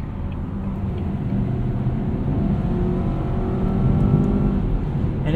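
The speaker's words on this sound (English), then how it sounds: "It's putting power down and giving you acceleration while it's downshifting" A 2018 Volvo V60 T6 AWD R-Design with an 8-speed automatic accelerating hard while downshifting, its engine a steady rising drone heard from inside the cabin, building slightly in loudness toward the end.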